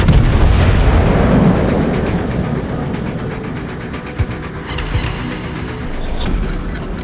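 Heavy artillery fire in a video game battle, a deep rolling rumble that fades, followed by a few scattered distant thuds and cracks.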